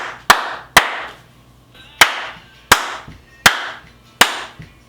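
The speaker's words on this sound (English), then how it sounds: "First claps recorded in the new room with the wood wall" Single hand claps are recorded in a room with a wooden wall. Six sharp, close claps fall at roughly even intervals, each with a short, bright room ring after it and near silence between them.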